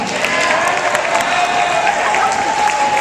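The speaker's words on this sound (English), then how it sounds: "give them a round of applause" A lively audience at a lecture gives a round of applause, with loud, dense, continuous clapping and some crowd noise throughout, no pauses.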